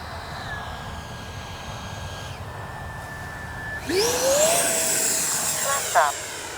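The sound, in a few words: Freewing Red Hawk T1 70mm RC jet plane flying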